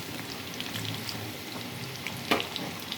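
Chicken pakoda deep frying in hot oil gives a soft, continuous sizzle with scattered crackles and one sharper pop near the end, heard faintly and close without any voices.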